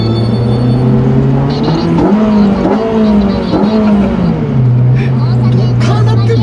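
A modified Honda Civic Type R FD2 with an aftermarket intake and catalyst holds a loud, raspy rev that climbs and falls in pitch as the throttle is blipped. It sounds close and steady, with people talking excitedly over it.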